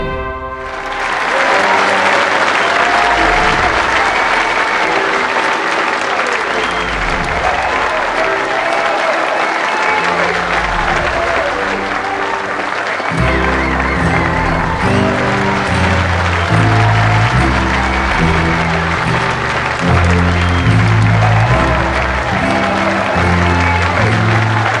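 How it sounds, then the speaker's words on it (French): Sustained, loud audience applause fills a school gala hall for Collège Stanislas, a dense wash of clapping from a large crowd that keeps going, with music and voices rising underneath in the second half. "applaudissez la cohorte 2021 du collège Stanislas."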